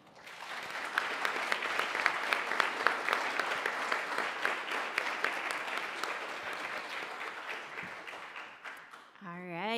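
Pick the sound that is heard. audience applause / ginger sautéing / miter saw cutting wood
audience applause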